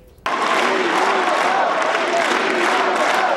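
A large, enthusiastic crowd at the University of Hartford breaks into loud, sustained applause and cheering for President Obama after a brief quiet moment.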